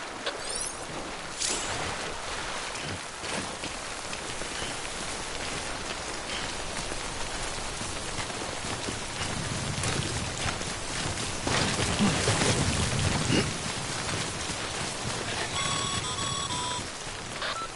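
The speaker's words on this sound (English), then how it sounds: "Don't stay out in the rain any longer than you have to." Steady timefall rain in the game Death Stranding, a continuous broadband hiss of rain on surfaces, with heavier, denser patter in the second half and faint electronic beeping tones near the end.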